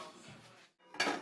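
A metal pot lid set down onto a pot of simmering Ecuadorian seafood soup with crab, landing with a sharp clatter after a brief pause in the kitchen noise.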